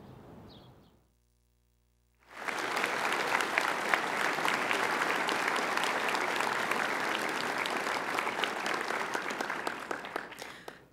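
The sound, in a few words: audience clapping at a leadership debate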